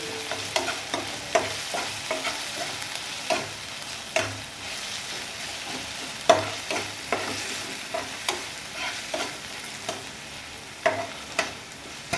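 Tomatoes fry in a pan for masala Maggi, a steady sizzle under repeated scraping strokes of a spoon stirring them at an uneven rhythm, close and without talk.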